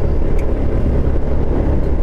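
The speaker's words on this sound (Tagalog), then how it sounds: "May tumutunog talaga sa motor ko mga katakbong chicks." A motorcycle ridden along a road in Norzagaray, Bulacan, with a rattling noise the rider notices when climbing; a steady, loud low engine and wind rumble runs throughout with no talk.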